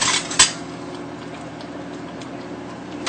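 Metal spoons and cutlery clink and rattle while being rummaged through in a kitchen during sauce making, with one sharp clatter near the start followed by quieter handling noise and a steady background hum.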